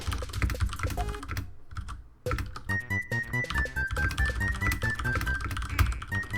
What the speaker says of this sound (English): Yeah, your keyboard is pretty loud.